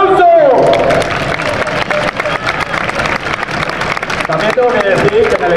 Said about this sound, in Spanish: se merece otro aplauso